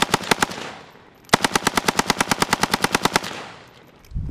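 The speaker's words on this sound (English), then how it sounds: "we're going to run the Xtech mag in a full auto. This is a dealer post sample full auto AK." A dealer post-sample full-auto AK-47 fed from an Xtech magazine fires two rapid bursts, a short string then a longer run of about twenty sharp, loud, evenly spaced shots, with echoing tails.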